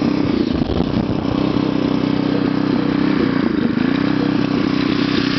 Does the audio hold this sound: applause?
no